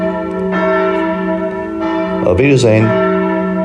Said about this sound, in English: the ringing of the church bells